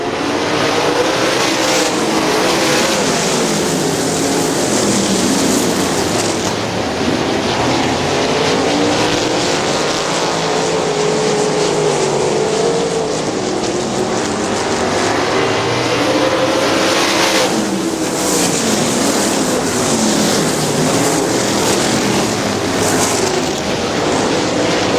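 410 sprint cars racing around a 3/8-mile dirt track, a loud continuous engine roar that swells and fades as the pack passes, heard from trackside.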